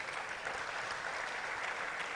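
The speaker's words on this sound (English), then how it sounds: "Can we give him another round of applause, please?" A conference audience at an international development event gives a brief, steady round of applause, a dense wash of clapping heard from a distance and at moderate volume.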